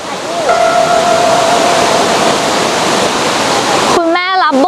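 Water in a stream rushes steadily as a broad, continuous hiss, with a voice sounding briefly over it before a short burst of speech near the end.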